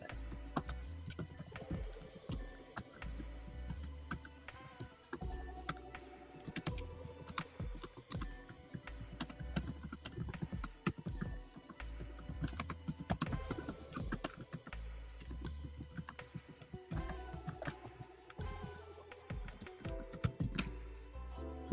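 Fast continuous typing on a laptop keyboard during a typing test, dense quick clicks with brief pauses, close and quiet, no talking.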